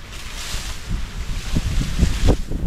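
Strong wind gusts buffet the microphone with low rumbling bursts on a farm where a hut is being built, over a steady rushing background that swells toward the end.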